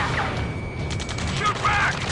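Gunfire in the Ace Combat video game crackles in quick bursts and pops under shouted game dialogue, with a bright whistling tone near the end, moderately loud and busy.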